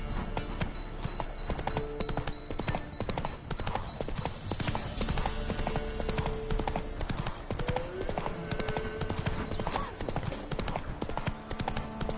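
Roach the horse galloping in The Witcher 3, a steady rapid clip-clop of hooves running through the whole stretch, close and loud over game music and ambience, with a brief whinny and a voice speaking.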